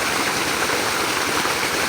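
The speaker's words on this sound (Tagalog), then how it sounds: "Ito pong tubig na ito ay galing sa solar pump." Water gushing from the outlet of a solar-powered 4 HP irrigation pump, a steady loud rushing splash that fills the whole moment with no other sound.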